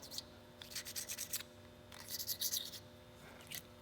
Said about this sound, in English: you can just use a razor blade and just shave it off.